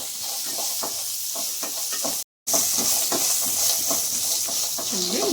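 Onions sizzling and frying in a pan for jowar flakes upma, a steady hiss with repeated stirring scrapes and a brief gap partway through.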